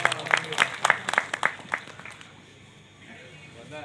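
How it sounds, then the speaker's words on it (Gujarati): An audience at a live stage program claps in a quick burst of distinct claps for about two seconds, then the clapping fades under murmuring voices. "તાળીથી બતાવો એકવાર"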